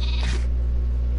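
A sheep bleats once in a video game, a short nasal cry early on over a steady low electrical hum, with the rest fading into the background drone.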